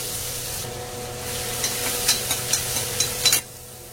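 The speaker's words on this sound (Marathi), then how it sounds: "तर हे आलं लसूण आहे तर ठेचून घेतलं होतं जाडसर असं, ते टाकलं" Coarsely crushed ginger and garlic hit hot oil already seasoned with asafoetida and turmeric for a mixed vegetable dish, raising a steady close hiss dotted with sharp crackles that thickens, then cuts off abruptly.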